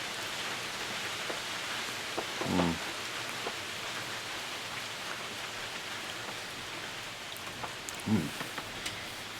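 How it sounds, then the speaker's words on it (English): Steady hiss of rain falling outdoors, continuous and even, with a couple of brief soft knocks or thumps breaking through. "And it's raining"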